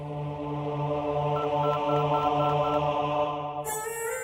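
A telephone is dialed in a dubbed Hindi action romance film, a rapid run of evenly spaced keypad tones over a sustained humming background, ending in a brief higher tone.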